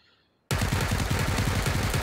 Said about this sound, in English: Did you see that UMP shooting?